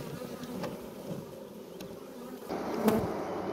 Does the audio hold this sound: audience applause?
no